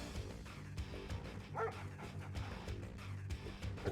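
Attack dogs in the strategy game Red Alert 2 give faint, repeated barks and yips over a low game soundtrack, with a brief whine in the middle.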